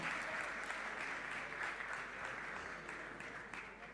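Applause at a church service for a gentleman, a steady wash of clapping from the congregation, fairly distant and slowly tapering over four seconds.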